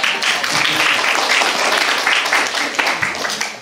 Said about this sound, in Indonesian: Tepuk tangan dulu lah.